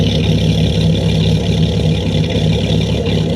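A Dodge Ram SRT-10's Viper V10 with stock exhaust idles loud and close, a deep, uneven, tractor-like rumble holding steady throughout.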